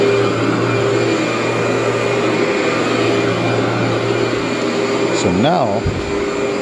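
A vacuum cleaner runs continuously with a steady loud whirring drone, its pitch wavering briefly near the end as it moves, while someone speaks a few words over it.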